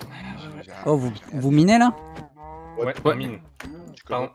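Cows in Minecraft moo repeatedly in a Manhunt match. Several drawn-out lowing calls come close and fairly loud, mixed with French-speaking players chatting.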